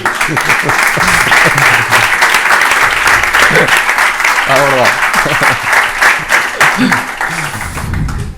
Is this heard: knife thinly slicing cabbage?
no